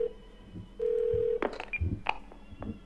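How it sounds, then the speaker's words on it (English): Short electronic dial tones from a phone calling an emergency number in the video game Twelve Minutes: a brief beep, a longer steady tone, then a few quick keypad clicks and blips, close and clear. "dial emergency number."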